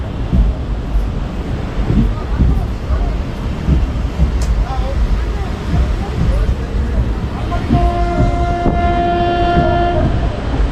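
A passenger train waits at Harishchandrapur railway station with a steady, close rumble and wind buffeting the mic, and a sustained horn sounds near the end.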